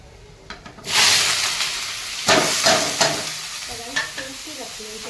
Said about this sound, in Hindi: और अब डालेंगे प्याज को अच्छे से फ्राई कर लेंगे